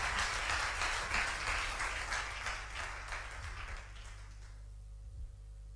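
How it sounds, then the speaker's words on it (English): Applause from the audience at a high school debate between Opoku Ware School and Bompata Presbyterian SHS, a broad steady wash of clapping that gradually thins and fades toward the end, leaving low hum. "a round of applause for him"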